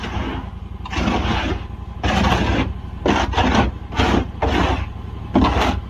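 A buggy being scraped: a run of loud, rough, rasping strokes in irregular bursts of about a second each, close up and continuous over a low steady rumble, with no talking.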